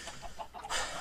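Chickens clucking in the Minecraft video game, a few short, close game-sound clucks in quick succession over a faint background, with no talking.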